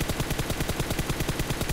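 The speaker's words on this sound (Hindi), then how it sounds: "बट एनीवे हमने स्मोक में रैंडम शॉट्स लिए" Rapid gunfire into smoke in a battle royale video game, a loud continuous string of evenly spaced shots with no talk.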